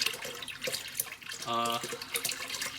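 Water runs from a tap beside a propane-fired off-grid shower pump setup, a steady hiss with a brief harmonic tone partway through, and a voice talking over it.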